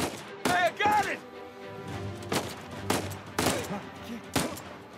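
Gunfire in Uncharted 4: A Thief's End, several sharp broadband cracks spread irregularly across the moment amid game sounds, with a voice breaking in briefly near the start.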